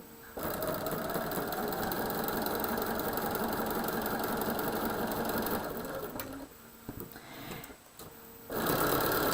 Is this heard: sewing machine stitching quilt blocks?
yes